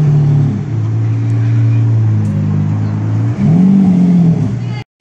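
A McLaren sports car accelerates nearby with a loud rising engine roar that dips briefly and then climbs again before cutting off.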